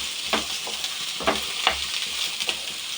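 Mussels (kadukka) dusted with salt and turmeric fry in a pan with little water, giving a steady close sizzle broken by a few sharp scrapes of a spatula stirring them, with no voices.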